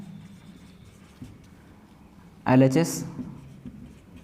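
Chalk or marker writing on a board while working a Class 12 matrix math problem, a burst of scratchy strokes mid-clip after a quiet stretch, with a teacher talking over it.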